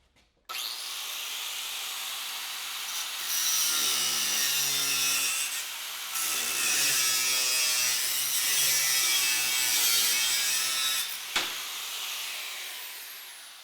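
Hand saw cutting a 45-degree miter through wood for a coffee table, a steady rasping back-and-forth stroke rhythm heard close up and alone, starting abruptly and running continuously for over ten seconds.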